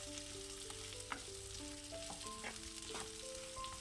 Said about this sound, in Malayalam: ഇനി നല്ലവണ്ണം മാങ്ങ ഒന്ന് ഈ എണ്ണയിലൊന്ന് വഴറ്റിയെടുക്കണം.